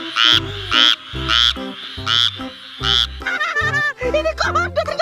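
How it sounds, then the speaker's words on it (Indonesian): A frog croaking loudly and close by in a regular series of deep, pulsing calls, followed by a faster run of higher, rattling croaks. "Ternyata ini kodok."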